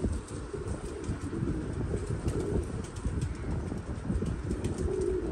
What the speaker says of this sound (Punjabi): ਖੰਭਦਾਰ ਕਬੂਤਰ ਕਹਿੰਦੇ ਨੇ ਨਾ, ਉਹ ਹਿੰਨੋ ਆਇਆ